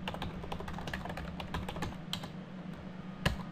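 Rapid, light key clicks on a computer keyboard in a quiet room, a steady run of taps with one sharper press near the end.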